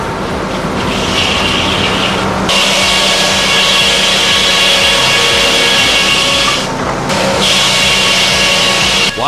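A compact hurdle-style sawmill with an old carriage setup drives a blade steadily through heavy timber, a loud continuous grinding rasp with a brief drop partway through, no voices.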